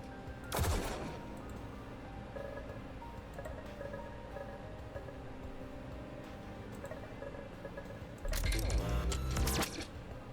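Gunfire bursts in a video game battle: two loud, sharp volleys, one near the start and one near the end, set over a steady bed of game music and ambience.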